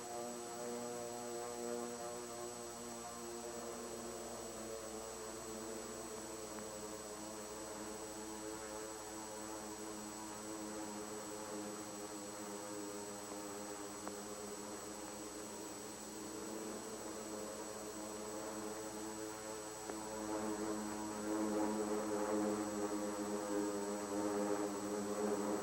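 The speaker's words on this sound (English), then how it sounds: "the drone of planes was faintly heard." A low, steady drone of World War II-era propeller aircraft approaching over Pearl Harbor, faint and distant at first, swelling slightly louder toward the end over a constant hum.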